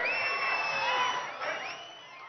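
A crowd at a KCR public meeting in Chandur cheers with shrill sustained whistles and whoops rising and falling; clapping is not clearly distinct.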